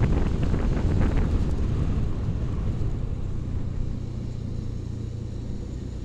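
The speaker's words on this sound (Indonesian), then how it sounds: "Nah kalau ini kayaknya truk tebu ini ya." A sugarcane truck on a village road drives past with a loud, broad engine rumble and rushing wind noise, strongest at first and easing slightly as it moves away, with no talking.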